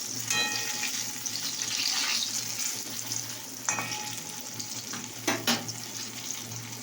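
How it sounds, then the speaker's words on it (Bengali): Eggplant slices frying in hot oil in a home kitchen, a steady close sizzle with a few sharp clinks of a utensil against the pan and a constant low hum underneath. "বেগুন তো দেখো ভাজা হচ্ছে"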